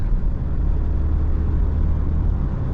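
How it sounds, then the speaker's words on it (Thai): A 2022 Ford Ranger Wildtrak pickup pulling away under throttle, heard as a steady, dense rumble of engine and road noise from inside the cab, with no voices. "การออกตัวถือว่าดีนะฮะ กดคันเร่งไปก็มีกำลังฉุดลากไปแล้ว"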